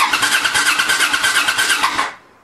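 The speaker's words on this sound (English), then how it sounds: "I'm going to just crank it for a second here" Motorcycle engine under restoration being cranked by the starter: a rapid, even whirring churn with regular pulses for about two seconds, loud and close, then stopping without catching.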